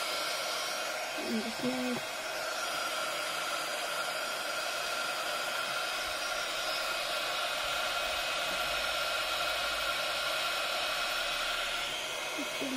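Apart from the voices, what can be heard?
heat gun heating glue under brick slips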